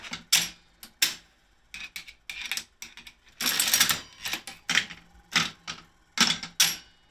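An antique mechanical slot machine mechanism clicks and clatters in a run of sharp, close mechanical bursts, with irregular rhythm and short pauses between, no voices.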